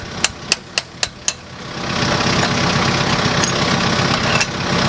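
Five sharp, evenly spaced metal strikes from hammering with an improvised tool ring out up close, then a steady engine rumble takes over and continues to the end.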